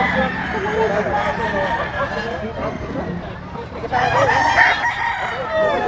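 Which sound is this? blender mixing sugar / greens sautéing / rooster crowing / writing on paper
rooster crowing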